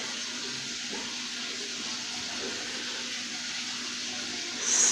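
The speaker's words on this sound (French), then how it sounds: "c'est mon mari là qui touche à l'eau. Je pense qu'il fait la vaisselle, donc ça fait un sacré bruit." Steady running water from a kitchen tap while a husband washes the dishes at home, a constant broadband rush that continues throughout and swells briefly at the end.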